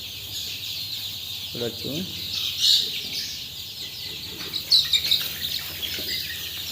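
Twenty-nine-day-old Sonali chicks cluck and chirp in short, scattered calls close by, with someone speaking briefly over them.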